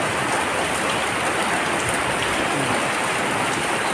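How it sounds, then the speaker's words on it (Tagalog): Heavy rain pours down outside during a downpour in Naic, Cavite, a dense, steady hiss of water on surfaces that stays loud and unbroken throughout, with no voices. "Sobrang kulimlim ng ulan."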